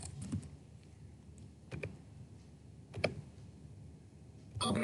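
Several quiet clicks of keys typed on a computer keyboard, scattered irregularly over a faint background, close and with no speech.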